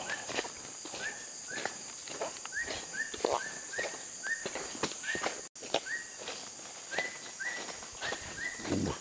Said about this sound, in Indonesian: Suara burung guys.